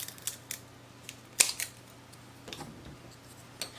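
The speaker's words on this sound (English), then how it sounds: "So I'm going to take one of the popsicle sticks and cut it in half." Snipping through a wooden popsicle stick with scissors, a few sharp faint clicks and one louder cut, otherwise a quiet room.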